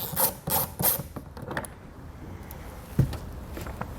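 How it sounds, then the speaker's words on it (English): A 7mm socket ratchet working mirror screws loose on towing mirrors, a few quick close ratcheting clicks followed by quieter rubbing and a single knock. "You can use a 7mm socket."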